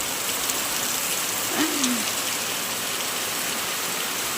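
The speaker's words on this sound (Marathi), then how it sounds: "पाऊस आला पाऊस पागोळ्या पडल्या एवढा पाऊस पडला बघ" Steady, dense hiss of heavy rain falling on surfaces and pouring off the eaves, continuous and fairly loud, with a faint bird chirp briefly rising above it.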